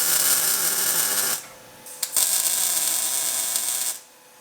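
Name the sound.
tack welding a gusset bracket to the rear pan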